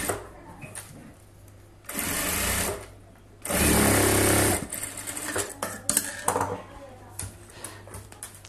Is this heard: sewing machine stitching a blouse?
yes